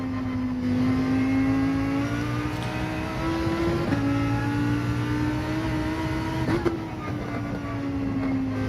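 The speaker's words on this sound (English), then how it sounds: "Oh, there's a car." A Gr.3 race car in Gran Turismo 7 holds a steady engine drone around Trial Mountain, shifting pitch slightly through gear changes and throttle lifts, loud and continuous with no talking.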